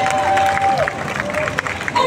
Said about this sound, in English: a round of applause for the festival organizers